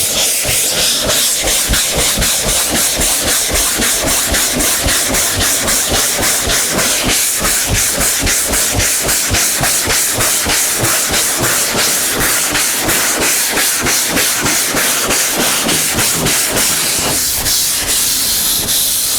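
Block sanding primer on a wavy old car hood with 80-grit sandpaper: fast, steady rasping strokes repeat in an even rhythm, close and loud throughout with no voices.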